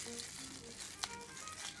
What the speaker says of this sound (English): Slow your roll. We're boiling over.